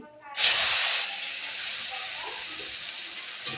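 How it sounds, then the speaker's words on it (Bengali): Mushrooms dropped into hot oil where potatoes were just fried, a sudden loud sizzling burst that settles into a steady hiss, with soft voice fragments underneath. "এই তেলে আমি এবার মাশরুমটাকে দিয়ে দেবো"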